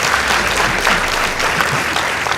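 An indoor audience at a school debate contest gives a dense, continuous round of applause, loud and even throughout, with no voices standing out.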